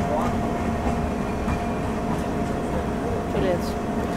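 The Kamrup Express, train 15962, rolls through Barpeta station in a steady rumbling wash of rail noise, heard close from another train with a faint tonal whine over the clatter.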